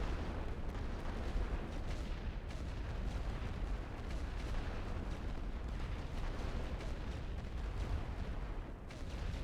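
Artillery fire in the First World War game The Great War: Western Front at the Ypres battle, a dense, continuous rumble of distant booms and bursts rolling together without pause.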